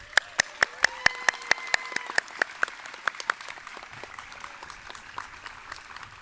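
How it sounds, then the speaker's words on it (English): At a middle school graduation for the Class of 2021, crisp single claps ring out in a fast, even rhythm for about three seconds, then scatter and fade into a quiet room. "One more round of applause for our graduates."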